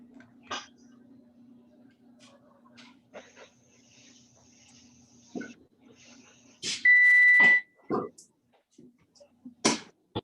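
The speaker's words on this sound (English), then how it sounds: "Somebody's alarm went off." An alarm beeps during an online community cooking session, a single steady electronic tone lasting under a second, loud against quiet background sounds and brief voices.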